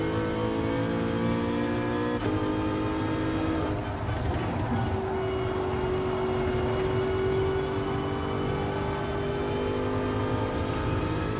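Racing car engine revving through a corner on a practice lap, a loud, continuous drone with a sharp pitch change early and a steady high whine after, no voices.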